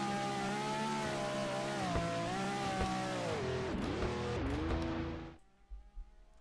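Racing car engine in the Car Dealership Tycoon video game, a mountain race, roars loud and steady with pitch sweeps as it shifts and revs, then cuts away abruptly near the end.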